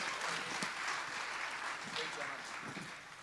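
A crowd applauds at a chamber of commerce panel discussion, a continuous hissing wash of clapping at moderate level, with voices talking through it.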